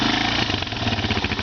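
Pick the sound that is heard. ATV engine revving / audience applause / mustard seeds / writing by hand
ATV engine revving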